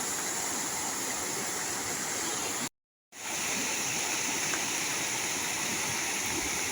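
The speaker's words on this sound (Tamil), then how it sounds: "தண்ணியானது சும்மா தாறு மாறா அடித்து போகுது" Floodwater rushes loudly and steadily after several days of rain near Polonnaruwa, Sri Lanka, a dense close roar with a brief dropout midway and no voices.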